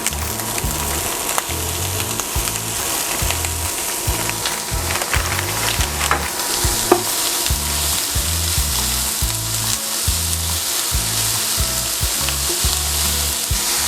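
Bacon and onions fry in a pan with a constant close sizzle as green peas go in, while low, rhythmic thumps of stirring repeat steadily underneath.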